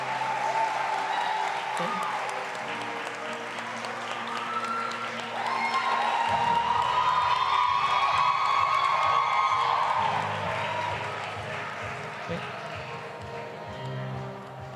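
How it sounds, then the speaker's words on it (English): Audience applause for an award recipient at the EDSA Prestige Awards 2022 ceremony, a steady crowd clapping that swells midway and tapers off, with some cheering and a brief spoken word over it. "If you can just give him a round of applause,"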